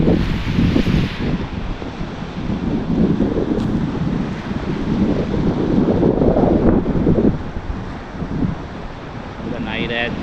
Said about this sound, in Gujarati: અને મોજા ઉછળીને આવી રહ્યા છે